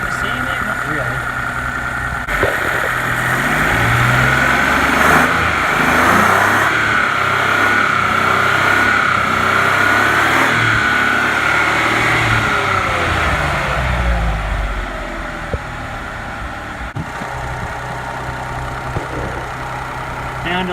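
A car engine idles steadily for a stretch, with a constant low rumble and a thin whine, while people talk over it; the note dips a little near the end.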